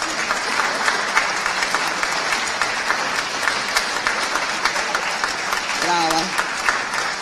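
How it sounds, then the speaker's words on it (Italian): An audience at the Premio Città di Senigallia award evening applauds the young Marchesi with steady, sustained clapping throughout, and one voice briefly calls out over it. "termina con un applauso alla giovane Marchesi"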